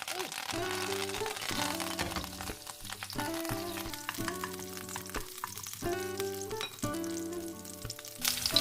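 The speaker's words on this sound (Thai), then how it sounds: "เราก็จะผัดกระเทียมพอหอม แล้วก็ใส่หอมใหญ่" Garlic frying in olive oil with parsley stems in a pan, the start of an Italian-style artichoke risotto: a steady, soft sizzle running throughout beneath prominent background music.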